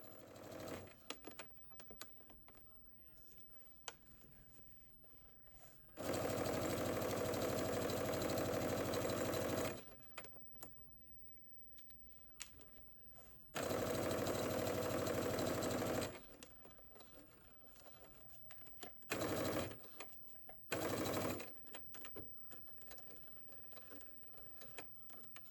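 A sewing machine stitches a 5/8-inch flat felled seam on a bomber jacket. It runs in four loud, steady bursts: two long runs of several seconds, then two short runs, with quiet pauses between them.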